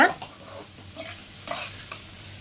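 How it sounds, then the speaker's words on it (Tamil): Egg poriyal, a Tamil egg stir-fry, stirred and scraped in a pan over high flame, with soft sizzling under brisk spatula strokes and a few louder scrapes, close and alone. "ஹை ஃப்ளேமில் வச்சுட்டு நீங்கள் நல்லா கிளறி விட்டுருங்க ஒரு ஒரு நிமிஷம் அப்படி பரட்டி நல்லா பரட்டி விட்டுருங்க"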